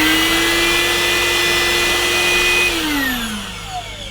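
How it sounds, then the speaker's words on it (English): An Easine by iLife H55 cordless vacuum cleaner runs with a steady, loud motor whine, then the pitch drops as it winds down near the end, heard alone. "But as far as the vacuum itself, you've got the on and off trigger here."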